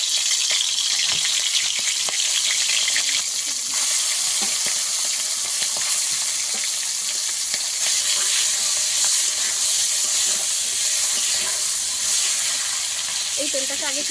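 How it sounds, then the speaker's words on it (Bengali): Golden fish frying in hot oil gives a steady, dense sizzle and hiss that runs throughout, close and fairly loud, with faint stirring noises. "কিছুক্ষণ ভেজে নেব দুটাকে একটু ভালো করে ভেজে নিতে হবে"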